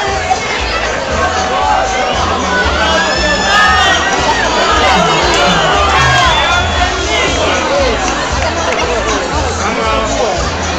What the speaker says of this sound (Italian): Un applauso alle Winx